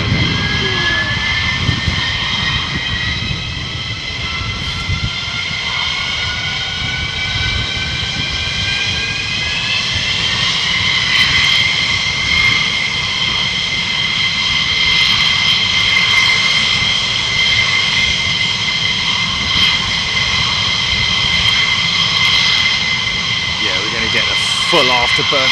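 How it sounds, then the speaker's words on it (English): Military jet engines roar on full afterburner at RAF Lakenheath, a loud sustained blast with rising whining tones that settle into a steady howl; voices can be heard faintly under the noise. "Full afterburner treatment here"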